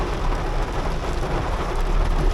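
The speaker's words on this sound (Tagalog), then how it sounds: "Malakas ang ulan." Heavy rain pouring down in a dense, steady roar, loud and close, during a motorcycle ride, with no talking.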